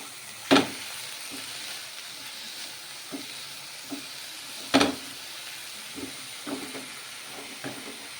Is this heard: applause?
no